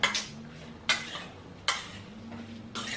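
Food stirred in a pot, with a few distinct scraping clinks of utensil against metal at a steady interval, close and moderately loud over a low hum, with no talking.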